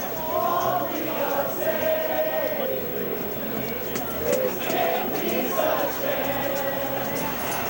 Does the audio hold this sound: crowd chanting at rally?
yes